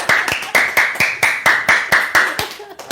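A group of people clap in a steady rhythm, about eleven sharp, loud, close claps spaced evenly and slightly ragged, with no talking over them.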